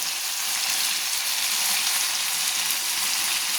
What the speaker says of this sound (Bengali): দিয়ে আবারও আমি ভালো করে নেড়ে নিচ্ছি